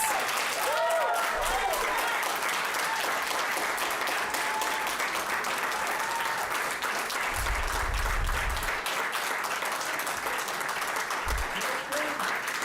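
Sustained applause from an audience at a town select board meeting, a steady dense wash of clapping from many people in a hall, with some voices and low thumps underneath.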